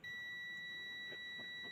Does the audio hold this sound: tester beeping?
yes